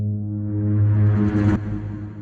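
A sustained synth bass note processed through an 80s-style synth plate reverb, a droning harmonic-rich tone that swells, cuts off sharply, then leaves a decaying reverb tail.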